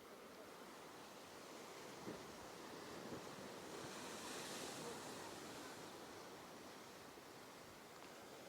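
Sea waves roll and break steadily on a stormy beach at Navaginskaya in Sochi, a broad continuous surf roar mixed with wind buffeting, no voices.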